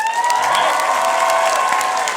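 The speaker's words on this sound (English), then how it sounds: "I want you guys first to put up a big round of applause for Mr. Justin Cook." An audience at a Dragon Ball Z convention panel applauds and cheers for producer and voice actor Justin Cook. The clapping is steady and dense for a couple of seconds.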